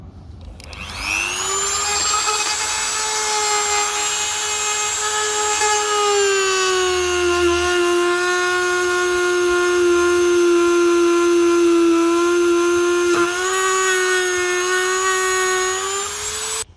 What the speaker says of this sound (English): let's do a bit of dremeling and open up this hole